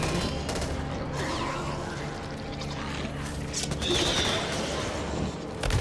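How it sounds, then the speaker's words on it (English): Dense gunfire rattles steadily throughout a Back 4 Blood fight, overlapping with mechanical clatter and game effects at a loud, constant level. "watch where you're shooting"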